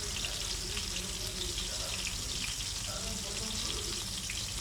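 Teeli kabab sizzles in a pan as it cooks, a continuous, close, bright frying hiss with small crackles that holds evenly throughout.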